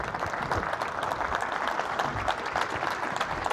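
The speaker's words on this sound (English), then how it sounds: "Please give Simon a big round of applause." Steady applause from an audience at a panel discussion, dense and sustained throughout without pause, with no voices over it.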